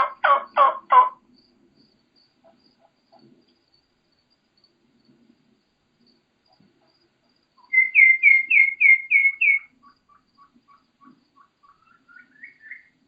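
A wild turkey hen calls out in a quiet western field: a short cluster of sharp notes, then a rapid run of high whistled kee-kee notes, then a fainter rising whistle, all with near silence between.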